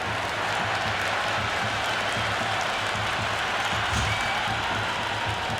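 A stadium crowd in the Cricket 26 video game gives a steady, loud wash of cheering and clapping that holds evenly throughout without pause.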